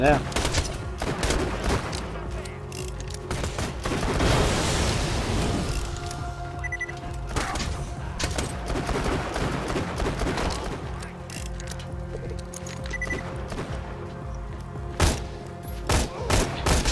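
Assault rifle fire in the shooter game Borderlands 2 crackles in repeated rapid bursts with booming impacts over a busy game soundscape, with some talking mixed in.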